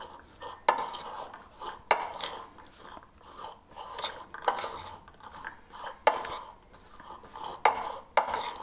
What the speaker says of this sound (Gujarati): હવે મિત્રો, આપણે આ બધા સરસ આવી રીતે મિક્સ કરી લેવાનું છે